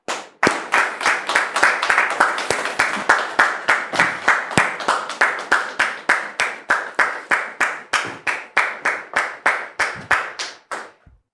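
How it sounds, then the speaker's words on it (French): Studio audience clapping in unison, a steady rhythmic series of loud, sharp, evenly spaced claps for around eleven seconds before stopping. "Merci public de recevoir M. Adia sous vos applaudissements"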